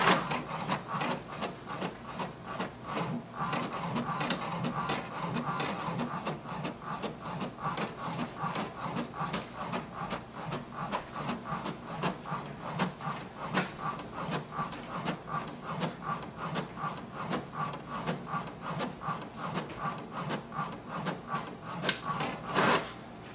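An HP DeskJet 2742e inkjet printer printing a page, with a fast, steady mechanical chatter of print-head passes and soft clicks that runs continuously at close range, without any talking.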